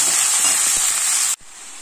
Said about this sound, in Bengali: আমি এই 5 মিনিট মতন আমি একটু নাড়াচাড়া করে নিয়েছিলাম পটল আর আপনার আলু